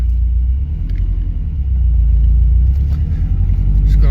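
A 2008 Subaru WRX hatchback pulling away on a test drive, a loud steady low engine rumble with road noise that swells slightly partway through, no talk.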